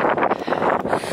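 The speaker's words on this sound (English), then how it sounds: "It's getting very windy now." Strong wind buffets the microphone on an exposed Mendip hillside walk near Cheddar at dusk, a steady loud roar with gusty surges throughout and no speech.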